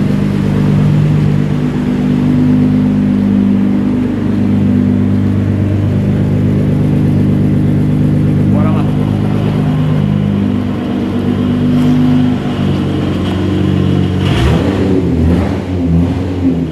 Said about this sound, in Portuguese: o carro esquentar, bora dar uma aceleradinha lá fora